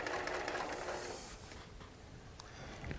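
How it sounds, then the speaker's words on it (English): A sewing machine joins Tula Pink charm-and-strip quilt blocks into a four-by-four unit, a faint, steady whir of stitching running without a break. "I'm going to sew that unit together so it measures 4 blocks by 4 blocks."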